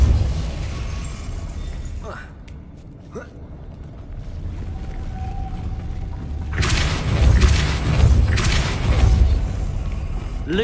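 Depulso spell blast in the Hogwarts video game, heard as booming, explosive bursts. Two sharp cracks come first, then a heavy, sustained roar of blasts over a constant low rumble.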